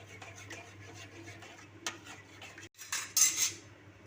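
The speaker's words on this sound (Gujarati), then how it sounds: "અને એને એકદમ હલાવતા રહેવાનું" A spoon scrapes and knocks around a kadai as milk and dissolved milk powder with ghee are stirred, soft rhythmic scraping over a low hum, ending in a few louder clinks.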